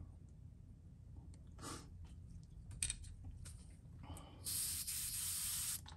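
Spray paint aimed at a fishing lure craw, several short faint hissing bursts followed by a longer sustained hiss near the end, close and quiet.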